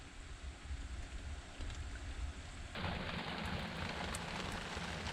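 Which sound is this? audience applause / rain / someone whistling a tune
rain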